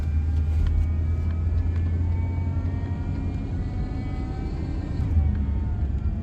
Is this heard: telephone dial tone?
no